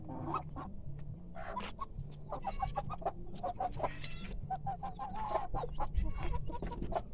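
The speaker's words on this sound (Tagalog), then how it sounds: "Meron din tayo dito mga panabong na manok." Fighting roosters on a farm, clucking and crowing in short repeated bursts at close range over a low steady background hum.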